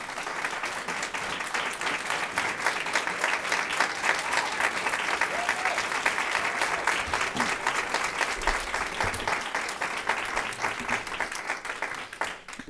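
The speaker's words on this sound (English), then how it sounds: "I hope no one minds if I pretend that that applause was for me." Sustained applause from a large audience at a school committee meeting, steady dense clapping throughout with no voices standing out, tapering slightly at the very end.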